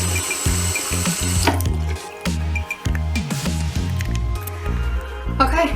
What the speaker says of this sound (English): It drains right away.